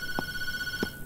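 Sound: telephone ringing in the video game Tattletail

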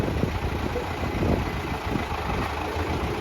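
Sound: tractor-mounted crane lifting, MTZ-80 engine running

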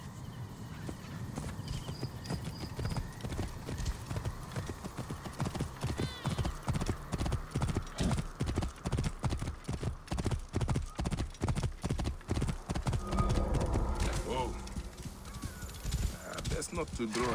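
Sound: horse hooves clip-clopping in the video game Assassin's Creed Origins

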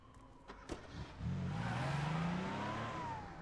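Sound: car engine revving in The Crew video game

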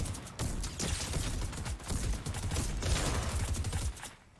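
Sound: gunfire in the video game Fortnite

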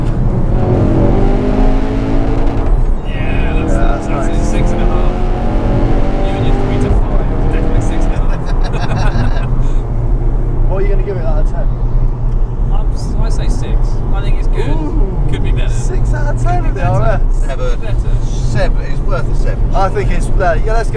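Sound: hot hatch exhaust revving with misfire

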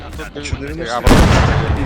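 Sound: tank cannon shots exchanged in a video game

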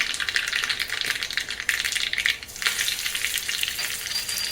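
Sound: mustard seeds and curry leaves crackling in hot oil

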